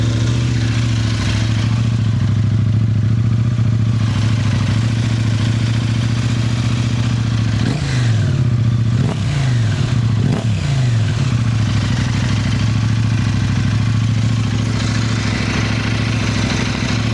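A KTM 790 Adventure motorcycle with a new exhaust idles loudly and steadily nearby, then gets three quick sharp revs that rise and fall before settling back to a deep idle.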